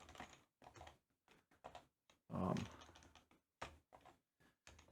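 Typing on a computer keyboard, irregular bursts of close, quiet key clicks with short pauses between them, one louder cluster of strikes partway through, alone in a quiet room.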